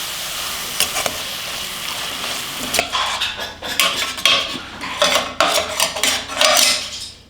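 A spoon scrapes and clanks in a pot as biryani masala with mint and curd is stirred, starting with a soft sizzle, then irregular close metallic knocks and scrapes.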